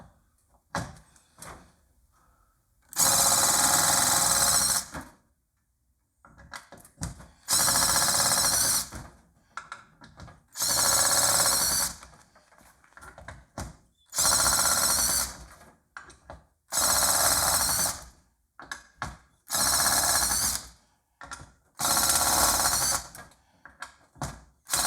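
A Ryobi impact tool running in repeated bursts of about two seconds each, loud, harsh rattling hammering separated by short pauses with faint clicks and handling noise between, no speech.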